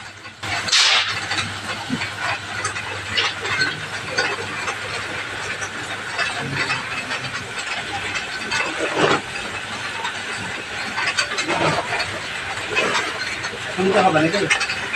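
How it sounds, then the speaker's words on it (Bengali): A puffed rice (muri) roasting machine in Murshidabad runs with a steady, loud hissing roar and scattered rattling clatter, continuous for the whole stretch. "সেই মুড়ি কিভাবে ভাজা হয় তাই আপনাদের সামনে তুলে ধরলাম"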